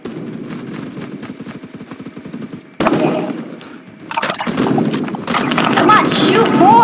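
Rapid automatic gunfire from the Phantom Forces video game rattles loudly in continuous bursts, with short pauses and shifts in intensity.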